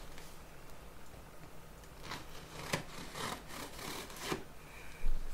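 Knife slicing through cardboard 3D printer shipping boxes, quiet rasping cuts and scrapes in short bursts, close but faint.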